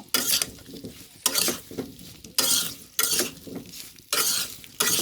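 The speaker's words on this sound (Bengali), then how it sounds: "কোড়োর ভিতরে দেওয়া হয়ে গেলে আমি সুন্দর করে জলপাইগুলো নাড়াচাড়া করব" Olives are stirred in a kadai in six or so separate bursts of scraping and rattling, each lasting about half a second with quieter pauses between them. It sounds close, with no voices.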